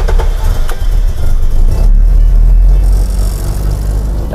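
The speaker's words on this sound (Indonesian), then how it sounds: "Ini namanya starter muter." A Land Rover engine fitted with Fitech fuel injection cranks on the starter and runs, a loud, close, continuous low rumble with no talking.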